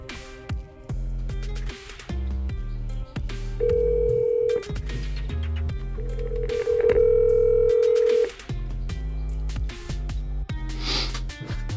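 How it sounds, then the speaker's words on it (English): A telephone dialing out to a house, a series of tones and a long ringback tone sounding near and clear, with two sustained rings over light background noise. "calling my house right now"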